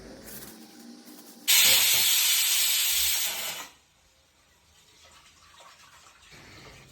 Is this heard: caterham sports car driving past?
no